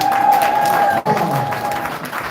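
Applause from an audience at a seminar on misconceptions about MLM, a steady wash of clapping with a brief dip midway, a sustained tone running beneath it.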